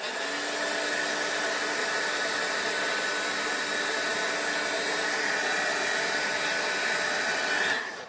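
A hair dryer drying artwork blows a steady, loud, close whooshing hum for several seconds before cutting off at the end, with no talking.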